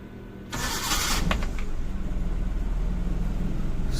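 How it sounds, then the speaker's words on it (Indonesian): A 1997 Suzuki Carry Carreta 1000 is cranked briefly by its starter and catches, then settles into a steady, rhythmic idle heard close up. "Kita hidupkan mesin."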